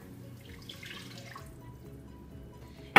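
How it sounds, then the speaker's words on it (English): Water pours steadily into a pan for tortellini soup, a faint, continuous splashing trickle that runs for a few seconds before a sharp knock at the very end. "So we're going to add in 2 cups of just water."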